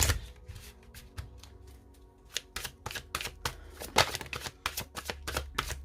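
Oracle cards being drawn and shuffled from a deck, a close series of quick papery flicks and slaps that grow denser and more rhythmic toward the end.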